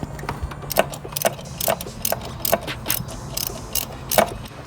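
A ratchet clicks steadily while loosening a bolt during engine removal from a Honda Civic, with a repeated run of sharp mechanical ticks over a low garage hum, close and without talk.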